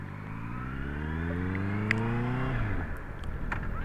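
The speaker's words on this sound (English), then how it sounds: "You gotta put it in the right gear there." A motorcycle engine revs upward in a steadily climbing whine, then drops sharply as the gear shifts, close to the rider on the road with light wind noise and no talk.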